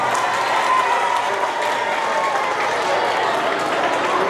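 A crowd at a Maulid Nabi celebration for junior high and primary school students claps, a loud, unbroken stretch of applause with some cheering and faint voices mixed in.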